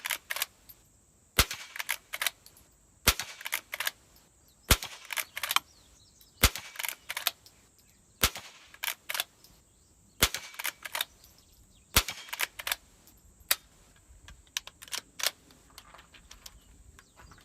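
Sharp gunshots from a vintage 1948 gun at an outdoor shooting range ring out one at a time, about a dozen evenly spaced reports, each crisp and loud against quiet gaps.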